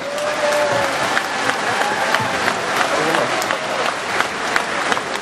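An outdoor crowd at the Kashubian Unity Day gathering in Bojano claps for accordion players, steady dense applause throughout with a voice talking over it.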